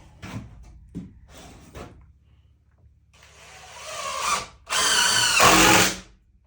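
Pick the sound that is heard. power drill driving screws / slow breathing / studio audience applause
power drill driving screws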